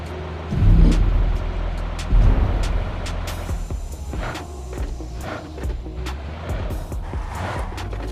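A vehicle drives in the PUBG Mobile video game, its engine revving loudly in two surges before dropping to a lower, steady drone. Sharp knocks and clatters break in through the rest of the clip.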